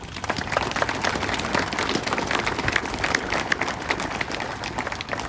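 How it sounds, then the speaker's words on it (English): An audience at a city project event applauds city departments with continuous, dense clapping for about five seconds, moderately loud and fairly close, with no voices over it. "Give them a round of applause"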